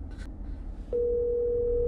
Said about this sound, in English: I'm going to click on the phone icon and it's going to call out.